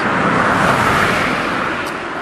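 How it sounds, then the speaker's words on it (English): Cars drive past on Church Lane in Worcester, steering around a pothole, a loud close tyre-and-engine wash that swells and then fades slightly as the traffic moves by. "people are driving around it to avoid it"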